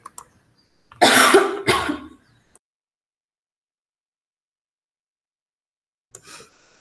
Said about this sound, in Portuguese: Peraí, gente, vou tossir